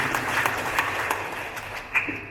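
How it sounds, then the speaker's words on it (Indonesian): An audience at a rector inauguration ceremony at Universitas Citra Bangsa breaks into applause, a brief, steady wash of many hands clapping in a large hall. "Kita berikan aplaus."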